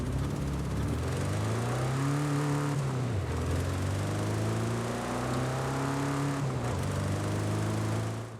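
A 1966 Volkswagen Double-Cab in Forza Horizon 5 idles and revs with a small, buzzy engine, its pitch rising and dipping in several throttle blips, steady and close with no voices.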